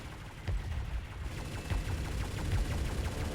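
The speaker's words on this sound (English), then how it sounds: "Do a chain gun here" Chain gun firing in a base defence video game, a rapid stream of gunfire bursts with steady repeated shots continuing throughout, loud and close with no talking.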